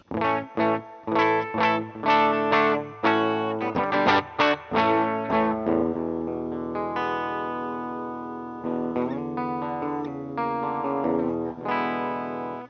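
A Les Paul electric guitar through a Mesa Boogie amplifier plays a run of plucked notes and chords in a clean tone, then lets a chord ring out before a few more strums.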